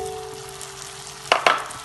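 Spices roasting in oil over a low flame for chole, a faint steady sizzle under a sustained tone, then two sharp stirring scrapes close together near the end.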